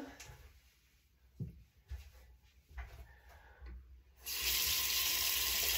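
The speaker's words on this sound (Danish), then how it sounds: "tager jeg lige lidt lunken vand" Lukewarm water gushes from a tap as a steady, loud, close stream that starts abruptly after a few seconds of soft handling noises.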